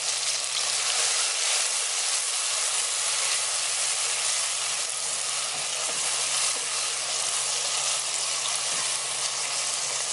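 Tomatoes cook in a pot of soup with a steady, even sizzle and bubbling hiss, close and unbroken throughout with no voices.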